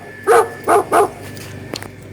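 Three sharp, close dog barks come in a quick cluster, then a brief faint click and quiet background noise.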